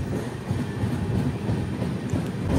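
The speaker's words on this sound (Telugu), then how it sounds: "ఇక్కడ స్టాప్ లేదు, కొంచెం మెల్లగా పోతుంది ట్రైన్ అంతే." Passenger train rolling slowly through a station without stopping, a steady loud rumble of wheels and carriages heard from on board.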